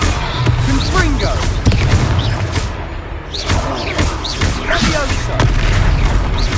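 Confringo fire spell explosions in the video game Hogwarts Legacy, a string of booming blasts and thuds over continuous combat noise, with voices calling out spells between hits.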